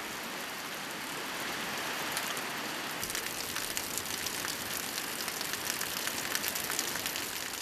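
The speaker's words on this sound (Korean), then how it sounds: "갑작스런 빗소리 법당을 채웁니다." Sudden summer rain shower pouring down on a bare mountain hermitage and its Buddhist hall, a dense steady hiss of drops that swells heavier after a few seconds and keeps on alone.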